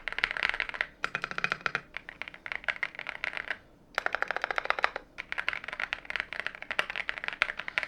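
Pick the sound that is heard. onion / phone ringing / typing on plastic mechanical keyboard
typing on plastic mechanical keyboard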